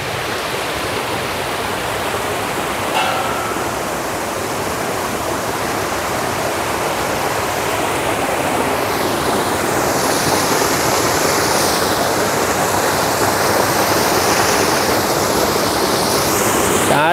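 A small stream in Vagamon, Kerala rushes in a steady, close, broadband wash of water that swells slightly toward the end, with no voices.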